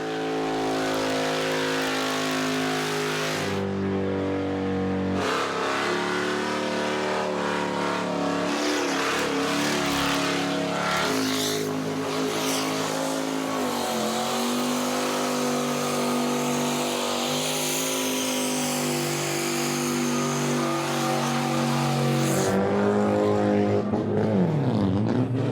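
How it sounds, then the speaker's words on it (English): Cars roar through burnouts on the burnout pad at Mystery Creek Event Centre, engines revving hard in long sustained bursts that waver and climb in pitch, loud and continuous with no talking. "Mystery Creek Event Centre sports its own burnout pack, and it wasn't about to go to waste with plenty of cars lining up to go round in circles."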